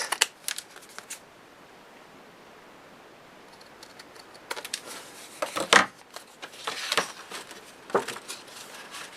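Scissors cutting out paper pieces for a handmade memory album, with quiet rustling paper and several short crisp snips, close and fairly soft.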